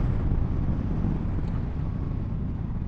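Wind buffets the microphone while riding a Yamaha MT10SP motorcycle beside Coniston Water in the Lake District, a heavy low rumbling roar that stays constant throughout.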